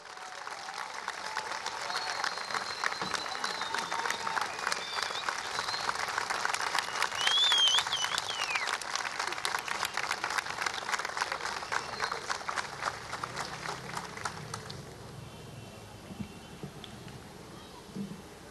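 A concert audience at the closing of the Sama International Festival for Spiritual Chanting and Music applauds the artist, a dense, sustained clapping that swells and then thins out near the end, with faint voices mixed in.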